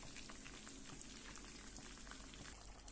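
Raisins and cashews frying in a pan give off a steady, dense crackle and bubbling sizzle, close and fairly loud, holding at an even level throughout with no talking.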